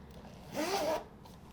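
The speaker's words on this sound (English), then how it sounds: "and zip it closed" A zipper is pulled closed on a Strathberry Cabas leather tote bag in a single quick, close, rasping zip under half a second long, with quiet room tone before and after.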